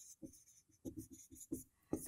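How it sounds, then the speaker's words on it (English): A pen or pencil writes a number on paper in a quick series of short, close scratching strokes with brief gaps between them, quiet and with no talking. "Let me just write it here."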